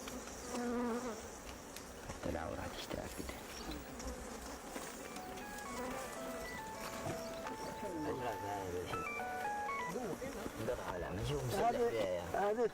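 Honey bees buzz steadily around during a honey harvest with beekeepers, a busy droning hum with voices talking over it at moderate volume.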